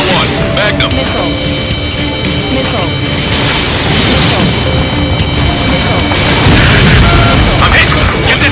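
A missile strikes a fighter jet in the Ace Combat 7 air-combat game, a loud booming crash over a steady roaring jet engine, with continuous talk running through it.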